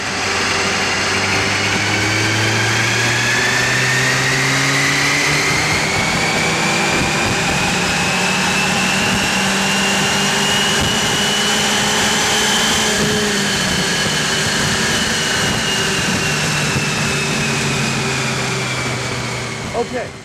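A Ford Fiesta ST engine runs on a dyno, a steady loud drone with rising and falling harmonics throughout, rumbling low and whining high without pause.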